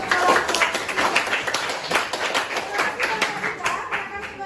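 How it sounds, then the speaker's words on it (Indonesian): An audience in a classroom applauds a group after their presentation, giving several seconds of lively, uneven clapping from a small crowd, with voices talking over it. "tepuk tangan untuk kelompok"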